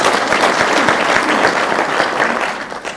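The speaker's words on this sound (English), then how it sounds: "Maybe he deserves a clap at this point in time." Audience applause fills a hall at the 2018 Nation Leadership Forum, a dense, steady wash of many hands clapping close and loud for the full three seconds, easing slightly near the end.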